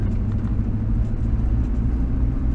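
A 1962 Morris Minor nicknamed George drives along with a steady low engine rumble and road noise, heard continuously from close by.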